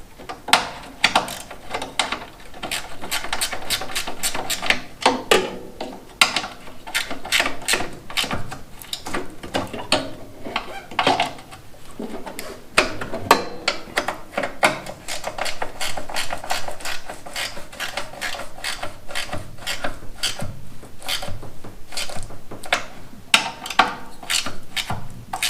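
Parts on a Troy-Bilt chipper vac being tightened, with a steady run of close, crisp mechanical clicks and ratcheting clatter lasting throughout, no voices.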